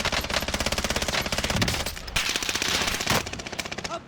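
Rapid automatic gunfire rattles in a shooter video game, with bursts of evenly spaced shots and a short pause midway. The firing is loud and close.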